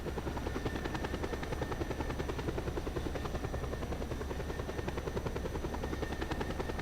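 A helicopter in the video game Just Cause 2 thrums with a steady rapid rotor chop under a constant engine drone, loud and unbroken throughout with no voices.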